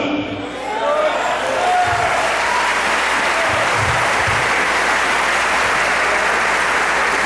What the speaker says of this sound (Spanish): Un fuerte aplauso, ¿verdad?